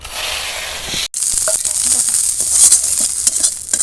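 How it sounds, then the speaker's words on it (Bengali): Loud, crackling sizzle of prawns frying in a hot wok, briefly cut off, then resuming with pops and scraping stirs. "আমি এখানে চিংড়ি মাছগুলো সব ভেজে নেবো"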